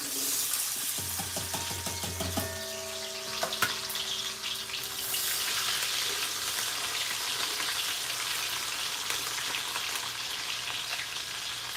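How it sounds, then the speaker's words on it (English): Onion dropped into hot oil for Liberian cassava leaf soup, a sudden loud sizzle that settles into steady frying crackle, with a few clinks of utensils early on. "our oil is hot, so let's go ahead and add our thingamajiggies. Add the onion"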